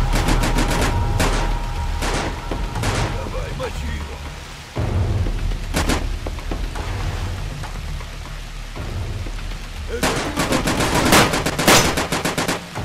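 Gunfire in a video game escape scene, with rapid volleys of sharp shots in several bursts over a noisy, crackling background, loud and close, some shots clustered like automatic fire.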